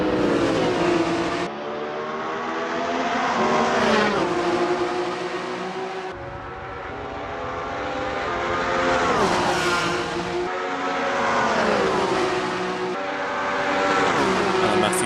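Touring cars racing in a 939 Corse Touring Car Championship league race on a racing video game, engines droning and revving loudly throughout, with pitch sweeps as cars shift and pass close by, continuous and dense.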